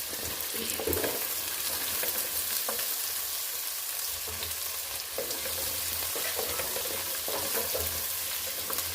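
Sliced onions frying in a pan for mutton curry give a steady, dense crackling sizzle that runs unbroken, close and fairly loud, with a few stirring scrapes.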